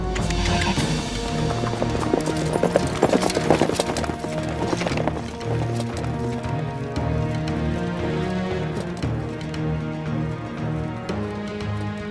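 Steady clip-clop of several Arabian horses' hooves moving along at a brisk pace while ridden, close and loud, with an occasional whinny among them.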